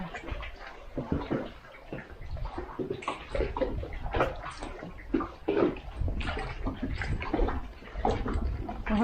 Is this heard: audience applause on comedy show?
no